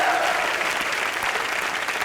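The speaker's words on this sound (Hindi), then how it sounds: "तालियां जी लो" Studio audience of a live comedy TV show applauding a guest actress, a loud, unbroken wash of clapping from many hands that holds steady throughout.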